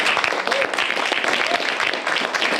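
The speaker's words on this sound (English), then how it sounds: "Big round of applause for her." Audience applause for a woman at an event, a full, steady roar of many hands clapping at once, with a few faint voices mixed in.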